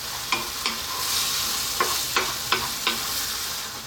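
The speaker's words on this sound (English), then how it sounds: "I'm going to keep stirring this in just to combine some flavours into the lentils." Lentils frying in a pot for dhal are stirred with a spoon, giving a steady sizzle broken by several sharp scraping knocks against the pot, close up with no talk.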